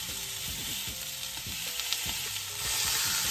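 Smoked crab frying in a pan gives a steady close sizzle, with stirring and scraping against the pan throughout, growing slightly louder near the end.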